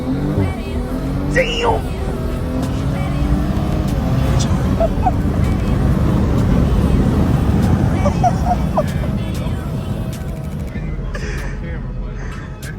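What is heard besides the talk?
BMW M340i xDrive accelerating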